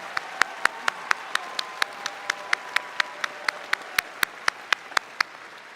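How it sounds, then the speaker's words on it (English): A high school graduation crowd applauds veterans standing in appreciation of their service, a loud, steady wash of clapping with sharp individual claps ringing out evenly throughout a large hall. "Please give a huge round of applause to all those standing in appreciation of their service."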